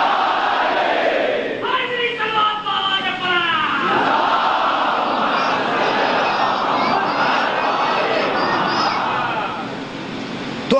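A large congregation at a Muharram gathering chanting slogans in unison, a loud sustained crowd roar of many voices rising and swelling together, filling the space for several seconds.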